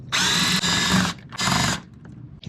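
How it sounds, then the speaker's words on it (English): Two bursts of a power drill backing out 10mm screws while working underneath a vehicle during a splitter installation, each whine lasting about half a second to a second, close and loud with a short gap between them. "Now let's grab our drill, just get these 4 10mm screws out"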